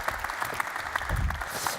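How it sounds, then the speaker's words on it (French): Brief audience applause welcoming a guest on a stage show, a short, fairly faint patter of clapping from a small crowd. "Merci de l'applaudir."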